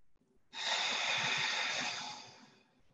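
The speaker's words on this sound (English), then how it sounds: "I'll do a quick set of four box breathing before I eat" Slow, deliberate breath drawn in through the nose and held during a box-breathing exercise before eating, a single long, soft, airy inhale that swells and then gradually fades, close and quiet with no talking.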